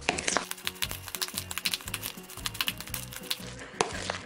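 A spoon stirs a salad of chopped onion, cucumber and boiled egg with mayonnaise in a bowl, making rapid, wet, squelching clicks and soft scrapes in a steady close-up rhythm.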